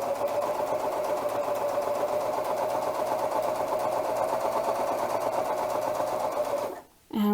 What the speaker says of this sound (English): And I'm going to continue sewing.